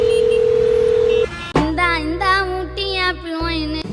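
Telephone tones during a phone call in a Tamil comedy sketch, a single steady tone held for about a second, then a brief pause and a melodic ringback tune playing over a low hum.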